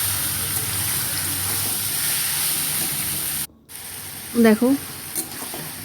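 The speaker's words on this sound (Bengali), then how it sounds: "দিয়ে ভালো করে একটু নেড়ে নেব।" Boiled taro leaves tossed with black cumin and dried chillies fry in a pan, a steady close sizzle broken by a brief cut, then a short spoken word and some stirring scrapes.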